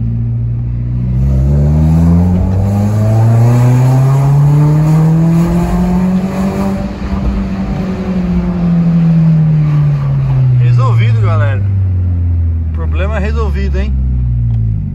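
The engine of a Nissan March 1.6 16v being prepared for drag racing runs loud and close, its pitch rising and falling smoothly through a long rev, with a few brief sharper rattles near the end.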